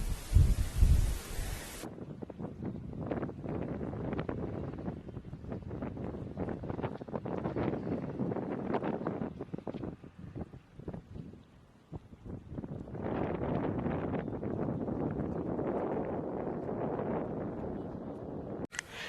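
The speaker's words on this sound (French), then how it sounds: "Profiter de la nature, profiter du vent qui souffle, écouter la nature." Steady wind blows outdoors with a rushing, buffeting roar on the microphone, rising and falling in gusts, with a brief sharp burst at the start.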